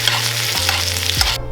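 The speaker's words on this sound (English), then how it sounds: "Then move the steak around. And baste your fillet." A steak fillet fries in a pan with butter while being basted, giving a loud, steady sizzle close up with scraping stir movements, ending abruptly.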